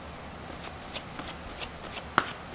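Tarot cards are shuffled close by, giving quiet rustling and several light, crisp card flicks, with one sharper snap near the end and no talking.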